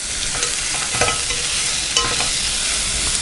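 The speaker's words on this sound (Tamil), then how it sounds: "தக்காளியும் நல்லா வதக்கிக்கலாம். இப்போ கொஞ்சமாக நம்ம உப்பு சேர்த்துக்கலாம்." Onion and tomato sauté with salt in a pan, producing a steady close hiss of frying with scraping stir strokes roughly every second, loud and alone without talk.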